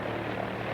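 Early American Airlines propeller airplane engine droning steadily, a dense continuous roar with a low throbbing hum, loud and close with no voices.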